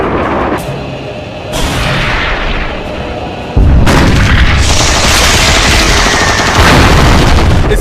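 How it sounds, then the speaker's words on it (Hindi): Heavy gunfire and booming blasts from a dubbed Hindi action movie scene about the Bermuda Triangle, with loud, dense repeated shots and a sustained barrage in the second half, no talking. "किसी एक को ही टारगेट करके गोलियां चलाएं"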